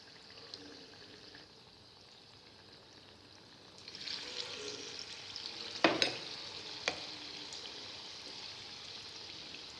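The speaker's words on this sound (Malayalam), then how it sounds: "നല്ല ചൂടായ എണ്ണയിലേക്ക് ഇട്ടിട്ട് നമ്മൾക്ക് നല്ലപോലെ മൊരിച്ചിട്ട് വറുത്തെടുക്കണം." Batter-coated egg pieces for chilli egg drop into hot oil, and a quiet hiss swells into a louder deep-fry sizzle, with a couple of sharp metal clinks from the utensil and no talking.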